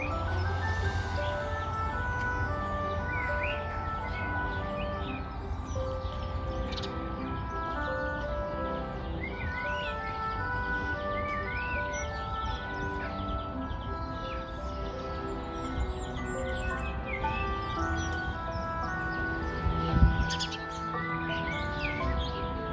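Birds singing outdoors in sunshine, with repeated chirps and short warbling phrases from several birds over a steady background, moderately close and continuous, no talking.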